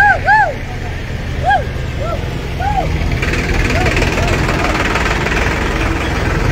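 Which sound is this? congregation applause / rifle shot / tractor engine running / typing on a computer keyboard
tractor engine running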